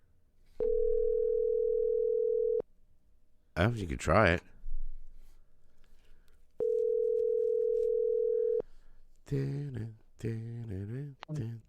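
Steady telephone dial tone plays twice in long even bursts while a phone number is being called, separated and followed by close conversational speech.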